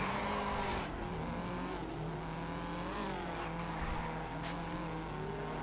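A race car drifting in the racing game GRID: a loud, sustained engine roar with long squealing tires through the slide and a couple of sharp high chirps, close and continuous.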